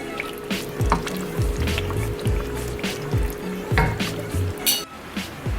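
Fried shallot chili sauce, Indonesian sambal bawang, being scraped and spooned from a pan into a bowl, with close clattering scrapes, drips and a lingering oily sizzle, fairly loud and steady, with no talking.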